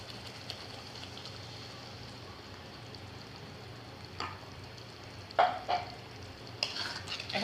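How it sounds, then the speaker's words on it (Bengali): Chicken roast being stirred in a pan, a low steady sizzle with a few sharp scraping clinks of the spoon toward the end, close and fairly quiet. "এখন ভালো করে নেড়ে নেব।"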